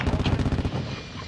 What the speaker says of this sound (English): Oh, I literally thought gunfire was coming from the stairs.